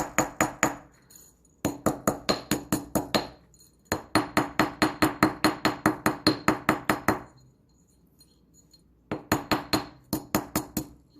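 A rawhide mallet taps a metal jewelry bar in quick runs of light, sharp blows, close and clear, with short pauses between bursts.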